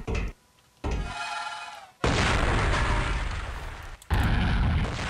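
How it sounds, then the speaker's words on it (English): A fire extinguisher blows up in the Duke Nukem Forever video game, a loud close blast followed by a sustained roaring rumble, then a second sharp explosive burst near the end, with a short quiet gap early on. "He blew up the fire extinguisher behind me."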